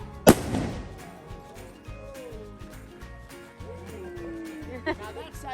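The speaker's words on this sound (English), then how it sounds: "Now that's how you load and fire a musket." A black-powder musket fires once in a loud, sharp blast at a historical demonstration, its boom echoing and fading, followed by outdoor crowd murmur and chatter with a faint second pop near the end.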